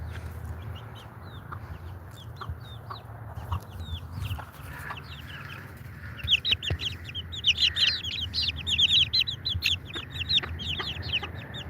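Small chickens cluck and chirp outdoors as rain threatens, a busy run of high, close calls that builds louder in the second half over a low steady background rumble.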